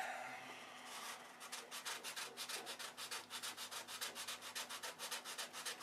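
Hand sanding on an airplane surface finish makes close, regular back-and-forth rasping strokes that start after a brief pause and continue steadily to the end.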